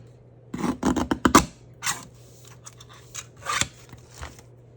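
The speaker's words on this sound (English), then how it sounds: "I'm gonna pull out my trimmer." A paper trimmer slicing through cardstock during card making: a few close, dry rasping cuts and sliding strokes, with a low steady hum underneath.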